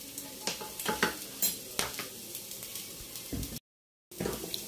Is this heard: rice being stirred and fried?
yes